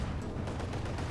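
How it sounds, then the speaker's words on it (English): Tank shell bouncing off armour in Company of Heroes 2, a muffled burst of sharp impacts and rumbling battle noise over about a second, fairly quiet. "Shot bounced."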